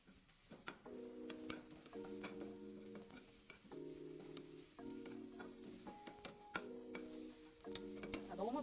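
Thin julienned carrots stir-fry in oil in a pan, a quiet, steady sizzle with light scraping stirs, while a faint, repeating electronic tone pattern plays in the background.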